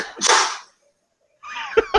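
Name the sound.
sneeze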